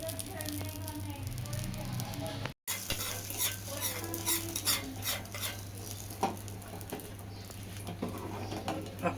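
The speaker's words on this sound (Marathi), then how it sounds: "आपण फोडणी डाळीत ओतून घेतलेली आहे." A sizzling tempering of garlic, chili and coriander pours into cooked moong dal, giving a crackling hiss and stirring scrapes. A soft voice talks at moments and birds coo faintly in the background.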